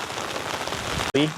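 Heavy rain pours down over an open field where weaver birds are feeding, a steady dense hiss of drops that cuts out briefly near the end before a short burst of birdlike chirps.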